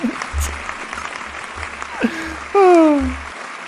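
A canned clapping sound effect inserted over a spoken podcast, a short burst of applause-like patter that swells loudly near the end, with a voice talking and pausing alongside it.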